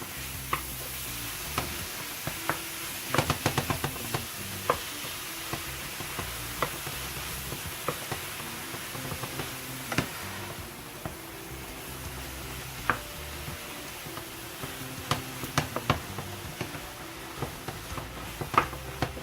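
Ground turkey for baked ziti is mashed in a sizzling pan, with steady frying hiss and scattered scraping, tapping strokes of a utensil, close-up and continuous with no talking.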